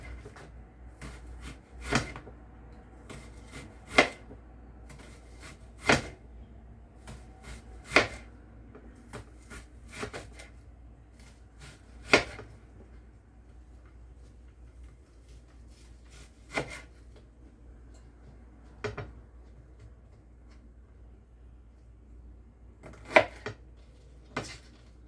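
A knife slicing through a red onion into rings on a cutting board, sharp isolated chops every second or two with quiet gaps between, close by and without speech.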